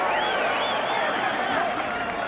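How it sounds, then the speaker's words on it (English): A large sellout crowd at a night rugby league match at Carlaw Park, Canterbury-Bankstown against Brisbane in 1993, producing a steady, dense roar of voices that stays loud and unbroken throughout. "Enormous crowd here at Carlaw Park tonight."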